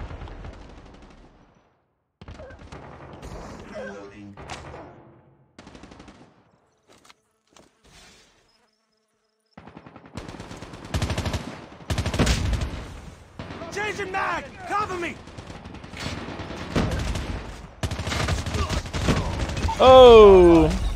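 Rapid gunfire rattles through a Call of Duty Mobile hardpoint match, sparse at first then dense automatic bursts and single shots in the second half, with a player talking over the action and game voices chiming in.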